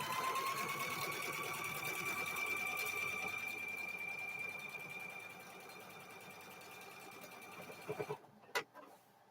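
A sewing machine stitches quilt squares together for a cow-themed quilt, its motor a steady, rising whine for several seconds before it stops, followed by a few sharp clicks and knocks.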